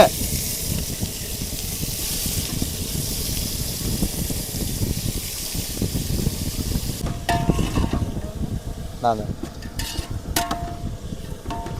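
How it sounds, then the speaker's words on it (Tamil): Chicken coated in turmeric hisses and sizzles in a hot pot while being stirred, during open-air seaside cooking; a steady, fairly close crackle is joined later by clinks and water-like splashes. "சிக்கன் மஞ்சத்தூள் போட்டு சூப்பராக கழுவி வச்ச சிக்கன் எடுத்து போடு"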